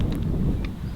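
Wind blows steadily across an open golf course, a continuous low rumble buffeting the microphone for the whole second with no other clear sounds.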